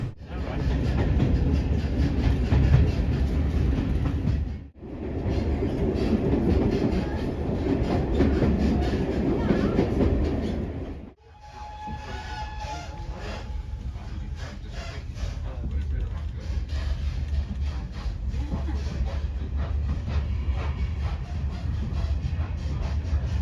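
A steam train rumbling along with rhythmic clattering wheels, loud and close, the noise dropping briefly twice before continuing steadily, on the West Somerset Railway.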